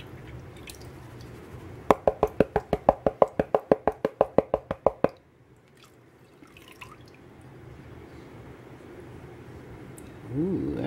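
Murky water and grit being shaken in a small gold prospecting pan in Sierra County, New Mexico, giving a quick run of about fifteen sharp, evenly spaced splashing clicks that stop abruptly, followed by quiet rustling and a brief bump at the end.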